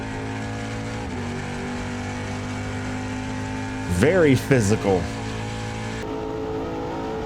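Onboard a Trans Am race car at Portland, the engine holds a steady loud drone, then revs up and down sharply in a few quick bursts; a voice briefly comments over it.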